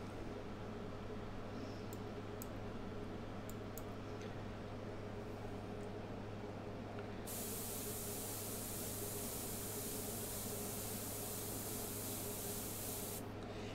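An airbrush spraying pinkish flesh-tone paint onto a portrait, a faint, steady airy hiss that starts partway through and runs for several seconds over a low hum, with a few small clicks earlier.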